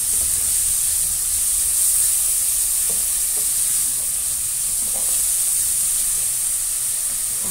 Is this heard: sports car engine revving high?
no